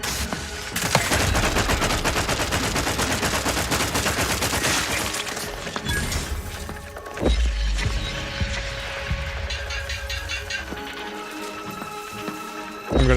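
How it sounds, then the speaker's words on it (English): Enemy gunfire in The Outer Worlds 2 rattles loud and dense through the first several seconds as rapid bursts. It thins out after a heavy thump partway through, leaving quieter scattered shots and game sounds. "Shooting at me?"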